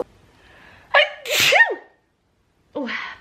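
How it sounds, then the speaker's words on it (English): A person sneezes once, loud and close. A short inhaled wind-up comes first, then a sharp explosive burst, followed by a brief exclamation. "I'm gonna sneeze."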